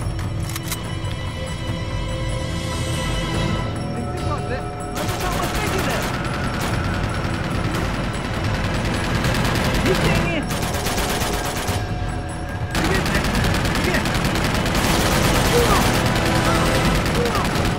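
AK rifle fire in the video game Uncharted 2: Among Thieves Remastered, with loud, sustained bursts of automatic gunfire rattling almost continuously in overlapping volleys and only brief gaps between them.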